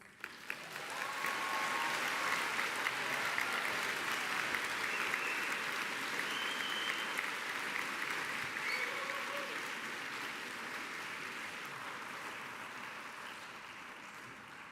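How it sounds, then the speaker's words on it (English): An undergraduate graduation ceremony audience in London applauds steadily, a dense wash of clapping that swells quickly, holds for many seconds and then slowly eases off toward the end. "Give yourself a quick round of applause."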